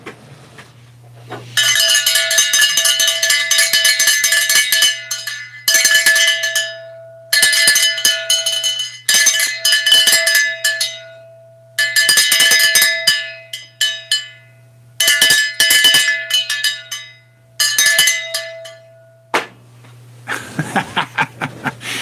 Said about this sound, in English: Let's ring the cowbell to celebrate.